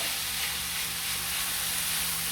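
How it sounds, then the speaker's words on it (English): Stuffed rice ball filling sautéing with mixed flavors in a pan over low heat on a cooker, a steady bright sizzle and hiss held evenly throughout, no speech. "I'm just going to let that saute nicely and let all the flavors come together"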